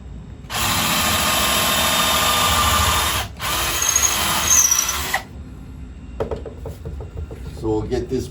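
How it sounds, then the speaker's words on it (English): A power drill bores a center hole into a piece of corkscrew willow for a lathe worm screw: loud steady whirring for about three seconds, a brief stop, a second shorter burst, then quieter knocks and handling noises. "I'm going to start by trying to find the center here to put in a hole for my worm screw"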